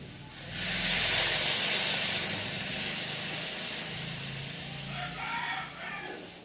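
Water poured into frying masala for a chuno fish chachchari sets off a loud, steady sizzling hiss that starts abruptly and stays strong, easing slightly toward the end.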